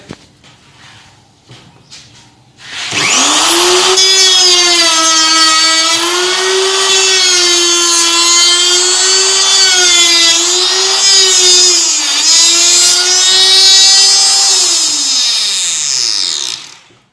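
A router cuts a mortise and tenon into timber with a loud, sustained high whine. It rises sharply at the start, holds steady with slight wavering pitch, then winds down at the end.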